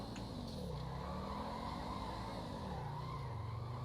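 A car engine in GTA 5 drones steadily while tires squeal in long sliding pitches as a BMW drifts, fairly quiet and continuous.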